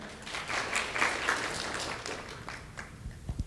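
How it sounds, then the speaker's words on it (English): Audience applause at a Korean-American LOKA anniversary and scholarship ceremony as guests are introduced, a moderate, steady patter of clapping that thins out toward the end. "If you're gonna clap for one, you're gonna clap for all of them"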